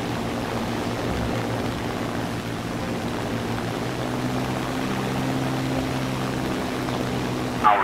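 An old-school propeller airplane flies in a combat video game, its engine a steady, droning buzz that holds constant throughout with no voices over it.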